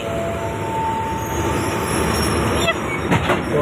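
Local train 418 on the Bua Yai Junction to Non Sung line in Thailand rolls over a station railway switch, giving a steady close rumble of wheels with a few sharp metallic clanks and squeals near the end.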